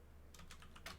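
Brief burst of typing on a computer keyboard, a few quick close key clicks over a quiet background hum.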